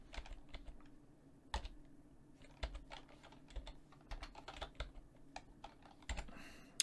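Quiet keystrokes on a computer keyboard as a file name is typed, irregular clicks in short bursts with pauses, close and alone without talk.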